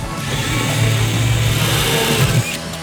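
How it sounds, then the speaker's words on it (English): A power drill whirs steadily for a few seconds, boring into material, close and fairly loud before easing off. "let's drill a hole and see if this thing works."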